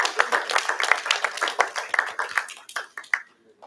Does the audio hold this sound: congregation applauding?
yes